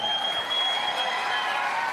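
An indoor audience claps together in a steady, dense wash of applause, heard briefly at moderate loudness.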